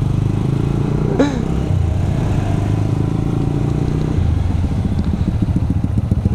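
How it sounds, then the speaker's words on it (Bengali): GPX Demon RR motorcycle engine running steadily and loud on a night road run, a low continuous drone with a brief higher whine near the start and rougher revving pulses later. "তোমার বাইকের সাউন্ডে আমি কিছু শুনি না।"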